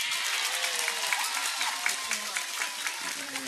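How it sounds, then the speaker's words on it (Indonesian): Audience applause at an Islamic religious gathering in Cirebon, dense continuous clapping from a crowd with some voices and chatter mixed underneath. "tepuk tangan."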